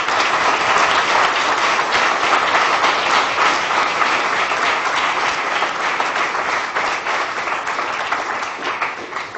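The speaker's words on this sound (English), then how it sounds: "give a round of applause to the panel" An audience applauds a panel after a discussion on UN climate talks. Loud, dense clapping from a full room holds steady, then thins and fades toward the end.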